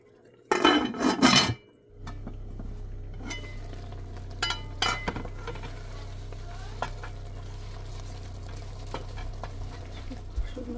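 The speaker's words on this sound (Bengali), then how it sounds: "আচ্ছা একটু ঢেকে দিই।" Metal pot and lid clatter loudly in a short burst at the start, then a soft steady simmer and occasional light clinks continue in a home kitchen while a Bengali-style sour water clover curry cooks.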